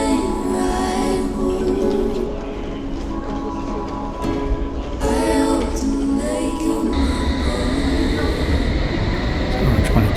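A London Underground train rumbles past close by, with wheel clatter, screeching and a rising hum as the carriages roll through the station.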